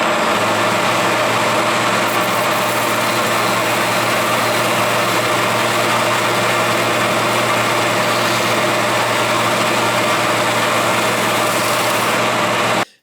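DA sander working over metal, a continuous loud steady whirring drone that holds evenly throughout before cutting off at the end.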